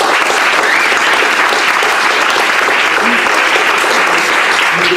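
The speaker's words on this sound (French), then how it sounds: "Je vous demande un tonnerre d'applaudissements pour le premier" An audience at a live comedy sketch show gives a loud, thunderous round of applause, dense and sustained throughout, with a faint whoop or two rising above the clapping.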